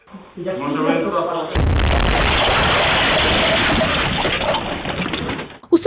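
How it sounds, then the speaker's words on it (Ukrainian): A sudden loud blast of broadband noise from a bomb explosion at a police station erupts after a brief voice, roaring steadily for several seconds before cutting off abruptly. "після чого лунає вибух"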